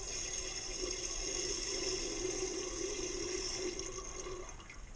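Water spurts steadily from a pipe as a Hydraforce 300i is bled, a continuous close hissing gush that tapers off slightly at the end.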